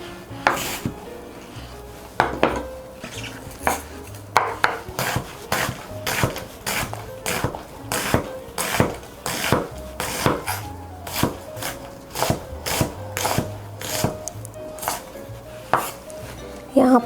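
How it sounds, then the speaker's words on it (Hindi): Fresh coriander being finely chopped with a knife on a board for a keema spring roll filling, a brisk series of sharp, close knocks in an uneven rhythm, with nobody talking. "यहाँ पर हम धनिया को भी इस तरह बारीक बारीक चॉप कर लेंगे"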